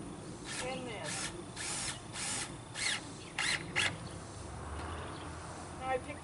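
A power drill starts a screw into a porch rafter, giving several short, faint whirring bursts separated by pauses over outdoor background noise.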